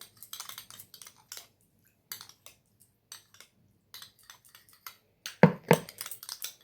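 Homemade makeup fixer ingredients being mixed in a container: sparse light clinks and tapping of a utensil against the vessel, in short irregular bursts with a louder cluster near the end.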